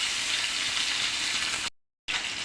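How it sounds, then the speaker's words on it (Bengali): Koi fish frying in a pan of hot oil: a steady, bright, crackling sizzle that fills the clip, cut by a short gap of silence before it resumes. "তো আমি একটু সবগুলো এভাবে ভেজে নেব।"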